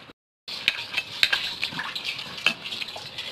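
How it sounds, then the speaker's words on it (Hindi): Chicken seekh mixture is worked by hand with olive oil in a bowl, producing close, soft squelching and wet clicking, with a short silence at the start and no talk. "इसे अच्छे से मिक्स कर लेंगे।"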